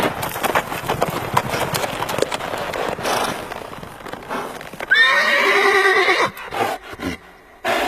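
A horse whinnies loudly in a long descending call near the middle, with scattered rustling and scuffling before it and a few sharp knocks after; the hoof clopping is not clearly separable.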